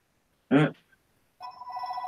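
A brief vocal sound, then silence, then a phone starts ringing with a steady, pulsing electronic tone that continues to the end.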